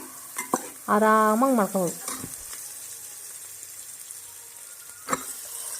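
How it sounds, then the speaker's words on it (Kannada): Onions fry in a pan for a tomato rice bath and are stirred, with a soft sizzle and several sharp scraping clinks of a spoon against the pan. A person speaks briefly near the start. "ಈರುಳ್ಳಿನೂ ಅಷ್ಟೇ ನೀಟಾಗಿ ಫ್ರೈ ಮಾಡ್ಕೊತಿದ್ದೀನಿ."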